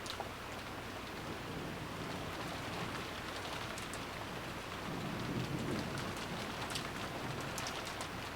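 Steady rain falls in the visual novel Umineko When They Cry, a constant hiss of heavy rainfall on surfaces with a soft low rumble swelling briefly midway, even and unbroken throughout with no voices.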